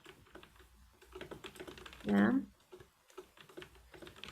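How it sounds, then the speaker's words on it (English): Typing on a computer keyboard, a dense cluster of quick clicks in a short burst near the middle, moderately close, surrounded by quiet conversational speech. "Typing, is that you?"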